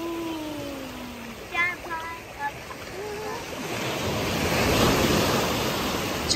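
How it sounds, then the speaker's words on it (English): Ocean surf washing onto a shore in Maui, a steady broad rush that swells toward the end, with wind noise on the microphone and brief voices and chatter earlier on. "There's the wave, the wave's going."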